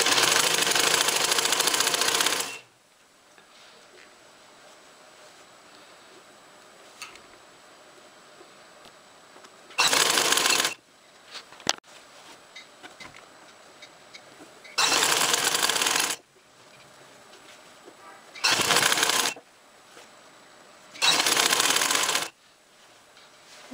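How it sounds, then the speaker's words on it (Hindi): A sewing machine stitches an elastic waistband onto trousers in several loud bursts of rapid stitching, the first lasting a few seconds and the later ones shorter, with quiet gaps of faint handling between them. "हम इसको थोड़ा बाहर वाली साइड पर सिलाई लगाएंगे"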